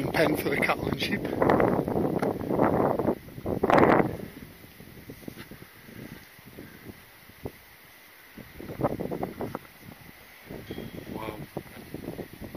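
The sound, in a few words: wind blowing at hilltop viewpoint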